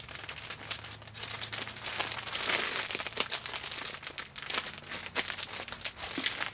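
A plastic mushroom grow bag filled with sawdust substrate crinkles and rustles in repeated irregular bursts as a filter sleeve is handled and slid inside, close and fairly quiet, with no talking.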